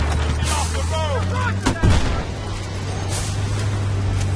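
Gunfire in the video game Battlefield: Bad Company 2, with a sharp shot near the middle over steady engine drone and background game noise, and a voice speaking briefly early on.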